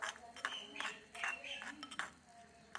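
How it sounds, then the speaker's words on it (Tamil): Onions being sautéed and stirred in a pan with a spoon, giving repeated metallic clinks and scrapes at close range with voices heard in between. "இப்போ நம்ம வெங்காயத்தை நல்லா பொன்னிறமாக வதக்கணும்."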